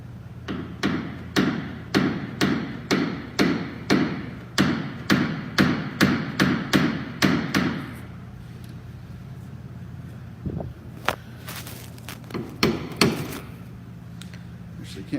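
A plastic-tipped dent paddle strikes the crease in a Dodge Ram bedside, about twenty sharp, evenly paced metallic taps over eight seconds. Quieter scattered knocks and handling noises follow.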